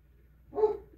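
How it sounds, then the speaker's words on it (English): A single faint dog bark in the background, short and distant against a quiet room hum. "Sorry about the dog in the background."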